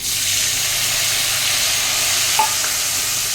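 Ground-spice water added to hot fish-oil in a pan, for a pabda fish curry with mustard and poppy seed, sizzles loudly and continuously, with one small clink partway through.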